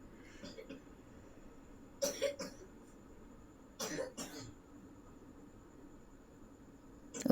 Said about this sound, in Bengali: ওইদিকে আমার ছেলেও কাশি শুরু করে দিয়েছে।